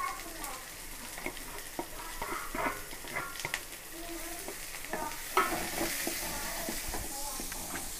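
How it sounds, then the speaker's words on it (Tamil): Onions sautéing in a pan for Chettinad chicken curry, a steady close sizzle broken by frequent stirring scrapes and clinks of a spoon against the pan, with no talk. "வெங்காயத்தை நல்லா வதக்கணும்."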